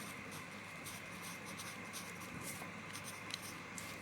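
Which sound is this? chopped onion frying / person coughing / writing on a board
writing on a board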